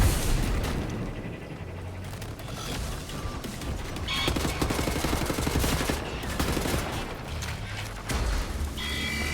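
Enemy gunfire in the Wolfenstein video game, dense and continuous with rapid automatic bursts and booming impacts layered over a loud game soundscape throughout.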